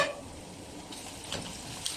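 Onions frying and being stirred in a pan while cooking dhaba-style white daal mash; a soft, steady sizzle runs throughout, with a few faint scraping stirs near the end.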